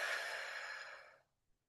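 A slow, deep breath is released during a calming meditation practice, a single soft, breathy exhale that gradually fades over about a second and ends in silence.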